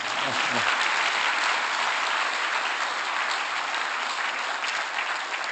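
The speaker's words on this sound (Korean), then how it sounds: "이러면 박수 치던데, 보통." An audience at a lecture applauds in a steady, even wash of clapping that lasts the whole stretch, with a brief murmur of a voice at the very start.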